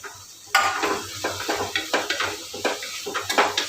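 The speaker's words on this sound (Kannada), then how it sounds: "ಹಾಕಿ ಅದನ್ನು ಟೊಮೆಟೊ ಸಾಫ್ಟ್ ಆಗೋವರೆಗೆ ಫ್ರೈ ಮಾಡಬೇಕು" Chopped tomatoes frying in a pan until soft, with a soft sizzle under repeated scraping stirs of a utensil against the pan, close and steady, no talk.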